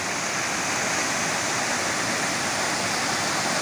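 Twin waterfalls at Cachoeira Paulista, where two rivers meet, pour in a steady, loud, broadband roar that fills the scene without pause, heard from a lookout with no voices present.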